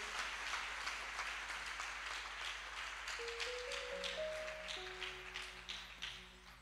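Steady applause from a church congregation filling the space, dense and continuous clapping that tapers toward the end, with faint tonal notes rising beneath it.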